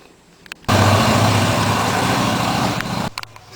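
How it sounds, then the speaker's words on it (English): An elderly man's motorcycle rides up a driveway beside a modular steel building, a loud steady engine drone that starts abruptly and holds for a few seconds before cutting off, with no talk over it. "He rides that motorcycle."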